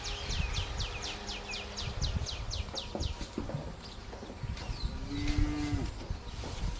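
Cows low in deep, drawn-out moos at milking time in a muddy farmyard where buffaloes are also kept, while birds chirp and tweet steadily over a constant outdoor background.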